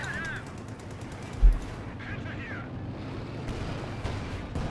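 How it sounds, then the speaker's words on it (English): Gunfire and artillery from the video game Company of Heroes 2, with a Sturmpanzer IV shelling an anti-tank gun: a steady din of battle noise with one sharp heavy impact early on and scattered shots, under faint commentary. "6-pound gun there being utterly slammed into the next world here by Jibber's Sturmpanzer 4"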